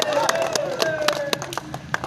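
At a village cricket tournament, a crowd claps for the champion trophy winners, heard as scattered, uneven hand claps mixed with voices from the gathering.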